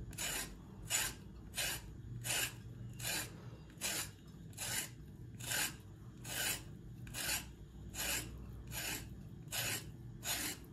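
A serrated carving tool scrapes the inside of a pumpkin in steady, rhythmic rasping strokes, roughly one every half second to three quarters of a second, close and clear with no talking.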